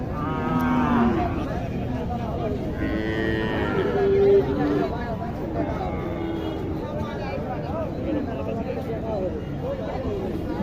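Cattle and calves lowing at a weekly cattle market, with several deep moos rising over steady crowd chatter and people talking nearby.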